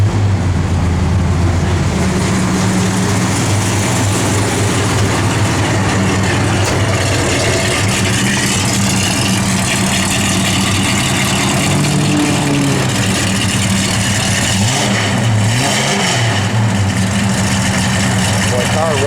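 The engine of a 1968 Plymouth GTX runs loud and close, a dense, rough rumble that swells briefly when revved before settling back to a steady throb.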